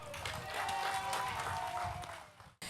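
An audience at an evening Relay for Life cancer fundraiser claps loudly and steadily, a dense wash of applause that holds for a couple of seconds before cutting off abruptly near the end.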